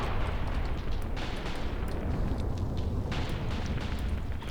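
Incendiary shell landing in Graviteam Tactics, a World War II tactical wargame battle in fog: a dense, continuous rumbling roar of burning and explosions with scattered sharp cracks, loud and steady throughout with no talk.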